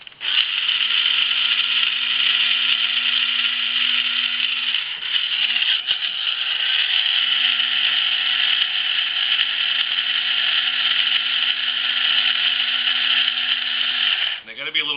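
An electric grinder whirring steadily as it grinds chili powder with kosher salt, a loud even motor whine that holds nearly the whole time, dipping briefly about a third of the way through.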